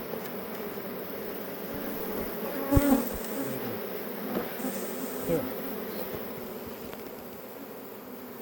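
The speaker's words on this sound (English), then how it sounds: "we're up in Michigan pulling the super off this beehive" Honeybees hum in a steady, dense drone around a hive as the super is lifted off on a beekeeping outing in Michigan, close to the mic, with a brief word spoken over the swarm.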